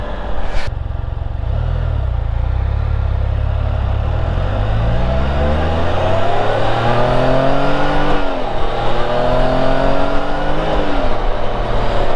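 A Can-Am Spyder three-wheeler with a 6-speed manual accelerates hard, its engine note climbing in pitch through several rising sweeps and gear changes, loud and close throughout with no talking.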